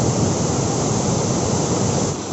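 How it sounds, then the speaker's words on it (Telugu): Tirathgarh waterfall in Jagdalpur roars loud and close in a steady, unbroken wash of falling water, with no voices. "వాటర్ఫాల్ కిందకి వెళ్ళడానికి ట్రై చేద్దాం మనం ఈ వాటర్ఫాల్ కిందకి"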